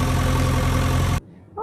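A toy JCB excavator plays a loud, steady engine-idle sound effect that cuts off abruptly. A short voice follows at the end.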